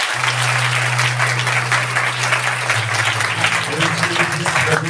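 A church congregation bursts into loud, sustained clapping, with a low steady tone humming beneath the applause.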